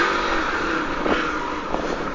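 A small motorcycle engine runs steadily and close, a continuous buzzing drone with slight rises in revs and no talk over it.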